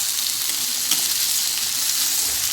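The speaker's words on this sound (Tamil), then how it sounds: "பொட்டேட்டோ சேர்த்து கொஞ்சம் அந்த ஆயிலே வந்து கொஞ்சம் மிக்ஸ் பண்ணி விட்டுருங்க" Potatoes frying in hot oil while being mixed for a Tamil potato fry, a steady close hiss of sizzling that runs unbroken, with one faint stirring knock.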